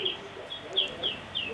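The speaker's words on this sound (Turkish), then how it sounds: "Kuş sesleri geliyor. Ne güzel." Small birds chirping in a short repeating pattern of bright calls, faint and steady against a quiet background during a call-in broadcast.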